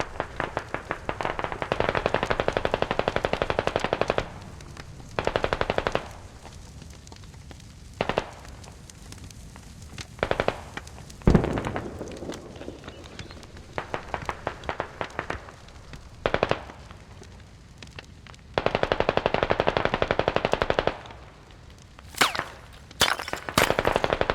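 Machine gun fire in a competitive video game squad match comes in loud, repeated bursts of rapid automatic shots, with short pauses between volleys and nobody talking.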